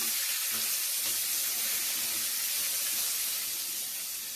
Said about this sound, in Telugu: ఇలా ఫ్రై అయిన తర్వాత దీంట్లోకి మనం కడిగి పెట్టుకున్నాం కదా ఈ బంగాళాదుంప ముక్కల్ని యాడ్ చేద్దాము